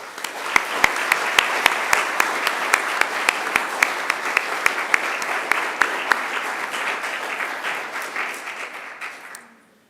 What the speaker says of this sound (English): I'd like you also to join me in a round of applause, thanking them for their help